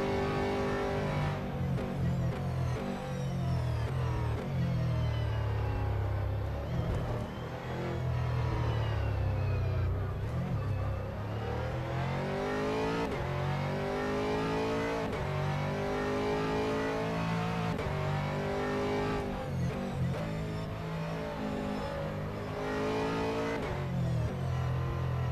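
Race car engine from the rFactor2 sim at the Nürburgring 24h layout, loud and continuous, revving up through the gears with sweeping pitch rises and drops at each shift and braking point.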